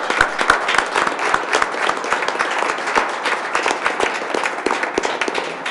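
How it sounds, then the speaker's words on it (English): Dense, steady audience applause at a school board meeting for East High School participants, many hands clapping continuously and close, with a few distinct sharp claps standing out. "I want to give them a round of applause for participating"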